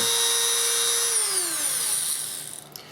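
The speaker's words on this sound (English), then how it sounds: "Let's put that Dremel away." A Dremel rotary tool that has been cutting case fan cable sleeving whines at a steady high pitch, loud and close, then spins down with a falling tone before stopping.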